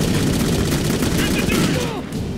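Dense, sustained gunfire from a firefight in the video game Clive Barker's Jericho, a loud continuous rattle of shots filling the whole moment with a faint tail at the end.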